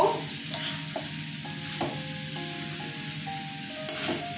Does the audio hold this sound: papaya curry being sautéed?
yes